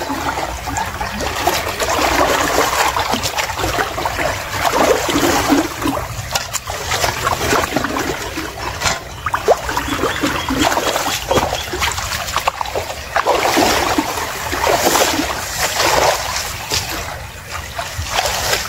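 Irrigation water flows steadily through a channel in a sugarcane field, a continuous close trickling and gurgling that holds an even level throughout, with no speech.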